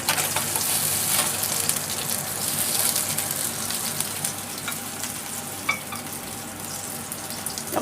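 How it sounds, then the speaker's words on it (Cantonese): A yellow croaker coated in cornstarch pan-fries in a wok, giving a loud continuous sizzle and crackle while the wok is shifted, with a few small clinks over the steady frying. "佢煎緊嘅時候啦，咁就喐下隻鑊啦"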